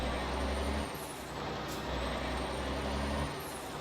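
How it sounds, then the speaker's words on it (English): A Mack R truck in American Truck Simulator pulls through its gears, the steady low engine drone dipping briefly at each shift, with a sharp air hiss between changes. "Oh, we are going through the gears."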